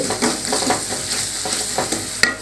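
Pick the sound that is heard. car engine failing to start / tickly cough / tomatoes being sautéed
tomatoes being sautéed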